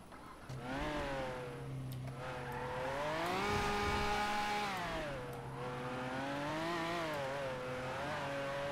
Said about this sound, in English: Dude, what's with this engine sound?